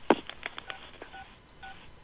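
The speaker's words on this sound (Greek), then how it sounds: "Παίρνει τώρα τηλέφωνο, ακούγεται τουκ τουκ." Telephone dialing tones from a video playing in the room, a quick run of about six short DTMF beeps followed by a couple of fainter tones, somewhat distant.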